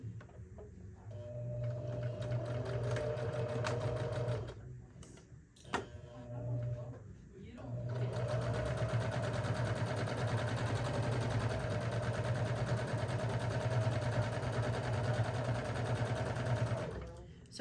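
A sewing machine stitches a French seam on a tote bag in steady, fast runs, stopping briefly around the middle before resuming, loud and close with no talking.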